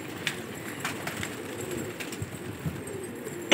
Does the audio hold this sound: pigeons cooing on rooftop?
yes